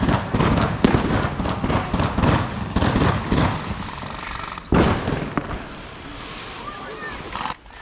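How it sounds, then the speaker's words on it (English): AK-47 rifles firing blanks at a MilSim West military simulation event: sharp, cracking shots, a few standing out loudly among a dense, busy background of scattered pops and muffled noise. "they have real AK-47s, but they're shooting blanks"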